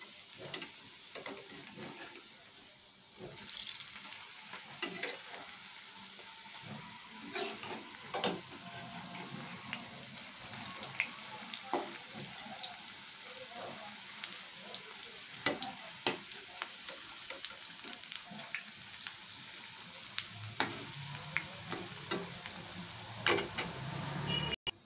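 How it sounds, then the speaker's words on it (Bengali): Potato peel fritters frying in oil over a low flame, a steady soft sizzle with scattered crackles and occasional spatula scrapes as they are turned, continuing throughout. "গ্যাসের ফ্লেমটা লো করে এগুলোকে লাল লাল করে ভেজে নেবো।"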